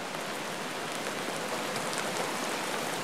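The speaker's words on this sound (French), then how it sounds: "La pluie dégringole sur les feuilles et rebondit sur le parapluie." Steady rain patters densely and evenly on leaves and an umbrella, a continuous hissing shower with no voices.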